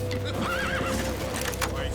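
A horse in The Witcher 3: Wild Hunt neighs loudly up close with a rising, wavering whinny, while hooves clop and shouting voices carry on around it during a frantic chase scene.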